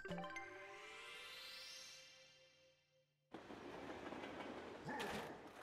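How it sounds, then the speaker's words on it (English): The Mario 3D Land train in Mario Party 10 on Wii U plays a rising tonal whistle, then cuts to a steady rumbling clatter that swells near the end. "we got the Mario 3D Land train"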